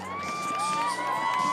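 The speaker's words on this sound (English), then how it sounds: "Good crowd on hand here for the home team." Spectators in the stands at a high school football game against LaSalle-Peru cheer for the home team, a steady roar of crowd noise with scattered shouts and whoops.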